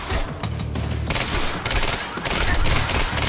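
Rapid automatic gunfire from the video game Quantum Break rattles in dense bursts, loud and close, with a brief lull before another sustained volley.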